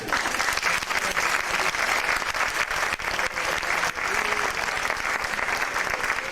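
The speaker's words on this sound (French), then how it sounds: "on peut les applaudir là" An audience claps for performers at a Basque dance presentation in Spain, a full, even burst of applause held throughout with faint crowd murmur underneath.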